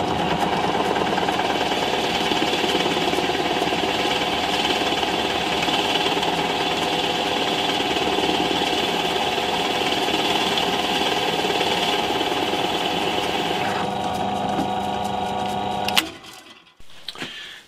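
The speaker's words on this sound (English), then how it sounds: "use a Forstner bit to drill an indent at the back of the body, and I'm using a 20mm Forstner bit" A 20mm Forstner bit drills an indent into the back of a guitar body, a loud, steady grinding whir that runs unbroken for about sixteen seconds before cutting off abruptly.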